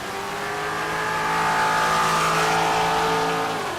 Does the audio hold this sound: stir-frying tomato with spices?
no